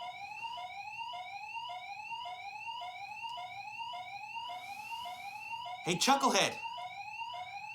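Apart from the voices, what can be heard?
alarm going off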